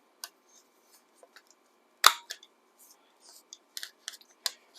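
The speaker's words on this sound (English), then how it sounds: "So let me round these corners." A corner rounder punches the corners of paper pieces for a junk journal, giving a few sharp, close clicks and crunches, one loud snap in the middle and smaller taps around it, with no talking.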